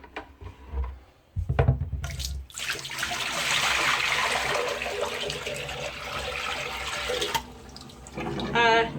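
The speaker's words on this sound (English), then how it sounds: "let's see what the water looks like when you dump it down a white sink" Dirty water from cleaning a set of window blinds pours from a container into a white sink, a sustained splashing gush of several seconds after brief knocking handling sounds, with a voice speaking briefly near the end.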